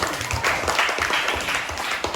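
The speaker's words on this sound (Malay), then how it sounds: "Beri tepukan untuk diri masing-masing" Pupils in a classroom clap for one another, a brief burst of fairly loud, uneven hand applause from a group, with no talking over it.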